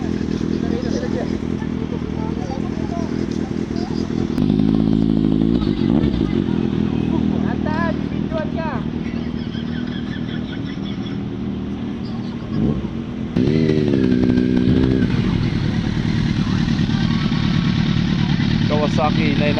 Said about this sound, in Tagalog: Kawasaki 900.